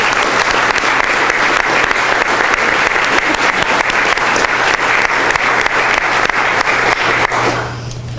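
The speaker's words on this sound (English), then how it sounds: "But let's give them all a round of applause." A large audience at a cities event applauds the organizers with loud, sustained, dense clapping and a low steady hum underneath, fading slightly at the close.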